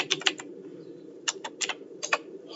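Typing on a computer keyboard, with quick clusters of light, close key clicks in short bursts separated by brief pauses over a low background hum.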